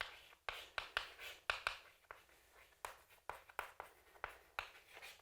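Handwriting strokes on a surface, a steady series of short scratchy pen or chalk strokes in quick bursts with brief pauses, close and fairly quiet, with no talking.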